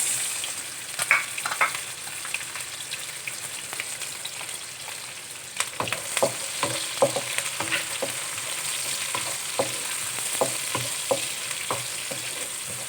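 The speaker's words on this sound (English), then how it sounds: "next goes in the onions and the curry leaves" Onions and curry leaves fry in a pan for a chicken curry, giving a steady, bright sizzle with occasional stirring scrapes and clicks growing busier partway through.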